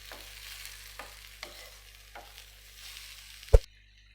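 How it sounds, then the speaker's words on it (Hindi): Potatoes and onions frying in a pan, a low steady sizzle with repeated soft stirring scrapes about every half second, ending in one sharp clack of the utensil before falling silent. "तीन से 4 मिनट इनको फ्राई करूँगी।"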